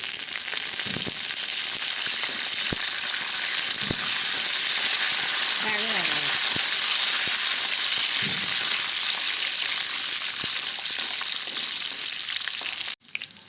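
A handful of curry leaves fries in hot oil with a loud, dense, steady crackling sizzle that runs unbroken for over twelve seconds, then cuts off abruptly.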